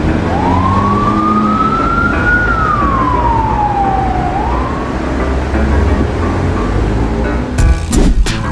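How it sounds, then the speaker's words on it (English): A police cruiser's siren sounds loud and near, one long rising-then-falling wail with a steady tone, over continuous traffic rumble, followed by a few sharp clatters near the end. "A BMW slows for a police cruiser with sirens on"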